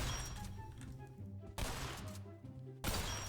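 Shotgun fire in a video game played on a weird gun build inside a tight room, heard as dense bursts of blasts with short gaps between them.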